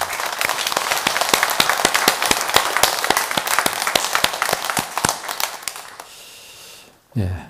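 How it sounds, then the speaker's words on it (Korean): Church congregation clapping in praise during a worship service, sharp regular claps in a steady beat for about six seconds before fading out, then a voice begins speaking. "우리 하나님께 영광의 박수 올리겠습니다"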